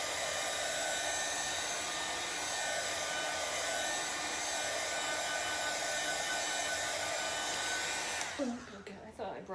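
A hair dryer blows steadily and loudly up close, drying chalk paint on a wooden pallet, a continuous whooshing roar that cuts off near the end.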